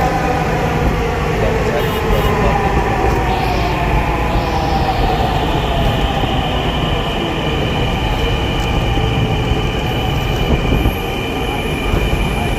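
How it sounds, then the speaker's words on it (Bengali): A Dhaka metro rail train arrives at the station with a loud, continuous rumble and high wheel squeals, while voices can be heard faintly underneath. "ট্রেন চলে আসলো"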